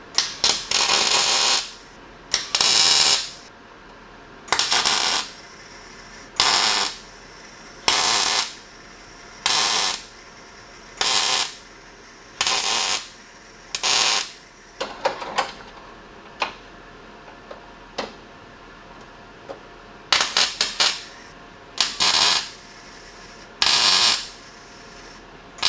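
Repeated bursts of welding on car body panels, each a loud crackling spurt of a second or so separated by short pauses, continuing in a steady stop-start rhythm.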